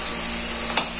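Food sizzles and fries steadily in a pan, a continuous bright hiss with one brief louder crackle near the end; no voices.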